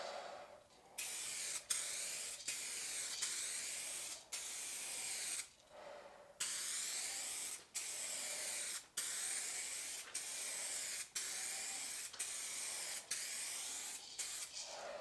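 Light clear coat sprayed onto a car body panel from a spray gun, a steady close hiss in repeated passes of about a second each, broken by short pauses between strokes.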